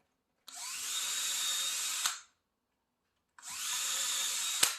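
Two bursts of a power drill whirring at high speed with a 5/32 bit, drilling for cabinet hinges, each about one and a half seconds, separated by a short pause, close and clear.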